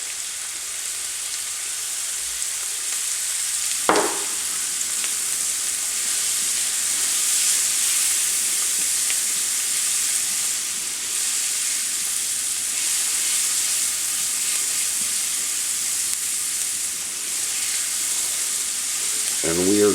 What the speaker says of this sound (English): And we are going to cook these until the onions are tender